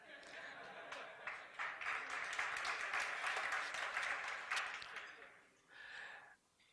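Audience applause at a talk on African leadership, clapping swelling from scattered claps to a full burst before fading, with a voice and laughter-like sounds near the end.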